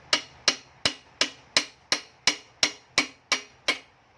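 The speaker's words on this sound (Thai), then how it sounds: "อ่ะค่อยๆเคาะเข้าไปครับ" Ten or so sharp hammer taps strike an aluminum motorcycle rear footrest part in a steady, even rhythm, each a bright close knock with a short ringing decay.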